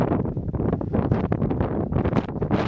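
Strong wind at a hilltop fort on St Kitts, buffeting the microphone in loud, continuous rumbling gusts with no talk.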